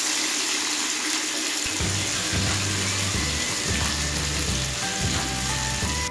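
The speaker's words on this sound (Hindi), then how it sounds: "अब मैं इसमें पानी ऐड कर दूंगी ताकि गोश्त अच्छे से गल जाए।" Water is poured into a pot of mutton seasoned with ground white pepper and salt. Steady splashing and trickling runs throughout, with rhythmic low clanking from the pot partway through and no talking.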